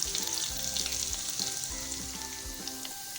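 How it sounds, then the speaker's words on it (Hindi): Steady crackling sizzle of garlic and green chilies frying in hot oil in a pan for an aloo methi dish, with occasional soft clinks of stirring and no talking. "कुछ सेकंड के लिए हम इसको अच्छे से फ्राई करेंगे"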